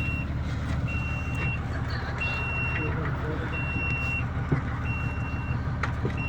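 A vehicle's reversing alarm beeps in a steady repeating pattern, five evenly spaced tones, over low engine rumble and wind noise out in the middle of a desert.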